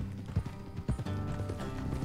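Steady clip-clop of horse hooves at a trot in the video game Red Dead Redemption 2, rhythmic and moderately close, with a low rumbling background throughout.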